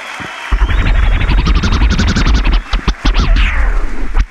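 A crowd at a freestyle rap battle roars for a rapper with loud, dense cheering and shouting that swells and stays heavy for several seconds.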